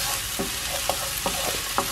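Bacon and onion frying together in a pan give off a steady, close sizzle, broken by a few brief clatters of stirring. No one speaks over it.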